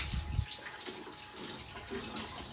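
Water runs and splashes in a washroom being scrubbed clean, a continuous watery rush with a few louder splashes early on and no talking.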